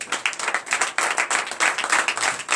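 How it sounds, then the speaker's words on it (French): A congregation at a church deliverance and prophecy night claps and cheers for God, dense continuous applause filling the room at close range with steady rhythmic hand claps throughout. "veuillez vous lever sur vos pieds et donner une vive acclamation à l'Éternel"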